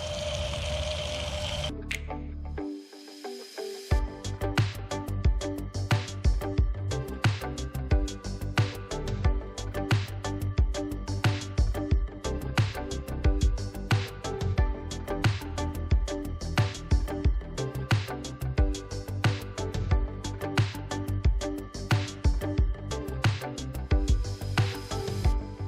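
A small solar fountain water pump runs with a busy, rapidly pulsing mechanical chatter and gurgle, fairly loud and close, after a brief rattle at the start; no one speaks.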